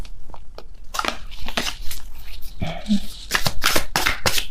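Osho Tarot cards being shuffled by hand, a run of papery riffles and slides close up, with a voice speaking briefly over the shuffling.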